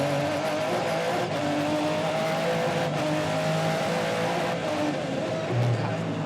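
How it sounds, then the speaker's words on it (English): A Ferrari race car at a 2002 American Le Mans Series race at Trois-Rivières, its engine a steady loud roar with tonal harmonics throughout, swelling briefly near the end, with background crowd and track noise. "Let's take a listen to this Ferrari."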